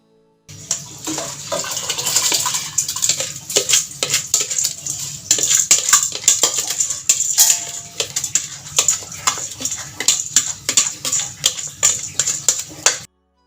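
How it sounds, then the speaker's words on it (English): Washed rice tipped into a pot for Nigerian fried rice, with busy clattering, scraping and wet stirring sounds in quick irregular bursts, close and fairly loud, with no talking. "now I've already washed the rice. I'm going to put it in"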